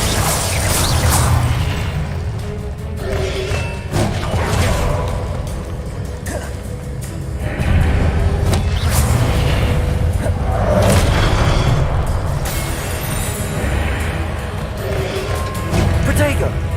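Magical combat in the Hogwarts Legacy video game: repeated booming blasts, crashes and swishing spell effects in quick succession, loud and busy, mixed with game voices.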